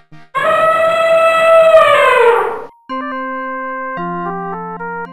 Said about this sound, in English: You're right. An elephant goes.